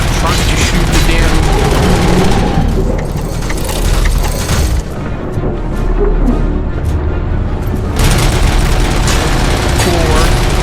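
Relentless automatic gunfire and heavy impacts from the video game Robocop Rogue City, with dense bursts and booms that fill nearly every moment, loud and continuous, easing briefly before surging again.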